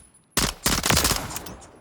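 Call of Duty: Modern Warfare Remastered gun firing in a rapid automatic burst, loud and close, starting abruptly and rattling for about a second before tapering off.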